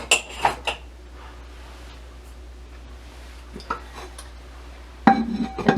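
An old wooden spoon knocks and scrapes against an old mixing bowl as flour is measured for a cake, with a few close clinks at the start, quieter scattered taps in between, and a busier clatter at the end.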